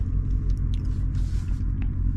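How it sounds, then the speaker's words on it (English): Dodge Charger SRT 392 from 2023, a Last Call edition, rumbling steadily through its engine and exhaust during downshifts, a deep continuous low growl heard from inside the car with no talk. "Downshifts is going crazy, bro"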